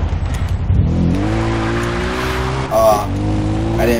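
A vehicle engine revs and climbs in pitch in the video game Far Cry 3, with brief tire squeals as it drifts, loud and close, while a voice talks over it.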